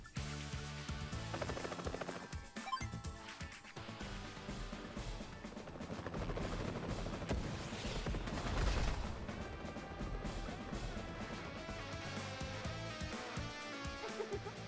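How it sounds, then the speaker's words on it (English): A battlecopter opens fire on an enemy tank in Advance Wars, rattling machine-gun bursts and mechanical impacts layered over steady game music, moderately loud and continuous. "Now move the battlecopter next to it and fire."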